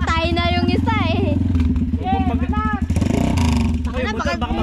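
A nearby motorcycle engine runs with a steady low throb at a resort, mostly under loud, overlapping voices of people talking and calling out.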